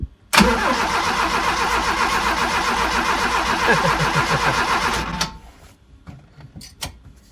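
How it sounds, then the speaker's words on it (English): A 1971 Fiat 850 SC with a newly fitted coil cable and the choke off cranks and fires almost at once, its small engine running loud and steady for about five seconds before cutting out, followed by a few faint clicks. "ignition on, chokes off, so we'll see if it starts"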